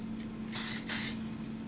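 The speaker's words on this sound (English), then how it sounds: "So a little spray, a little scrunch." Two quick bursts of Tresemme hairspray misted onto curly hair, each a loud sharp hiss lasting about a quarter second with a brief gap between, over a faint steady hum.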